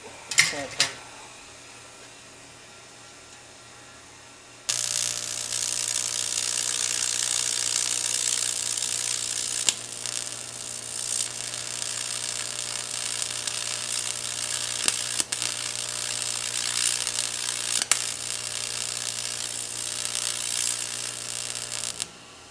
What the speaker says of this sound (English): I'll do another weld here.